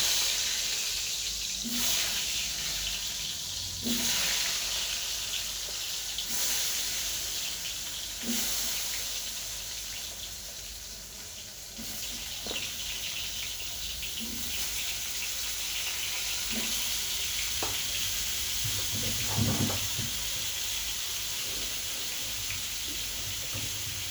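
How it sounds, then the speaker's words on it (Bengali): Potatoes salted and coated with turmeric fry in hot oil in a wok, giving a steady hiss with occasional soft clinks throughout, no talking. "এবার প্রথমে আমি আলুগুলোকে ভেজে নেব।"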